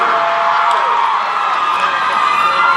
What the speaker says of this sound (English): Let's hear some more screaming.